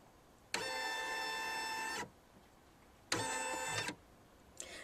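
An embroidery machine traces the outline of a design on a greeting card in two motor runs of steady mechanical whirring, the first about one and a half seconds, the second shorter, then a brief third start, with no one talking.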